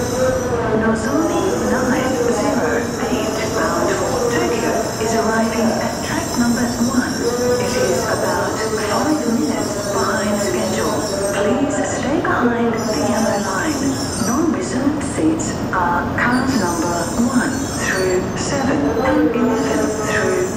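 A Nozomi Shinkansen bullet train bound for Tokyo rumbles loudly and continuously into Shin-Yokohama Station, track 1, on the Tokaido Shinkansen, wheels squealing and carriages rattling, while a Japanese announcement speaks over the din.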